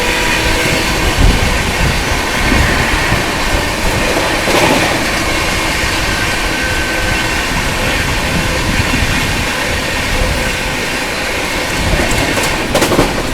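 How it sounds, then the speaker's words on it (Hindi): The New Delhi–Kanpur Magadh Express rushes past on the neighbouring track as the passing train crosses it, a loud sustained roar of wheels and rattling coaches with clickety-clack running the whole way through, and no talking. "और ये रही न्यू दिल्ली कानपुर मगध एक्सप्रेस।"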